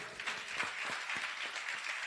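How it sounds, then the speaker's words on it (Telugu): A church congregation claps together in praise for the Lord, a steady run of hand claps close by with a broad crowd wash behind, about two seconds with no voice over it. "కొట్టు చప్పట్లు ప్రభుకి"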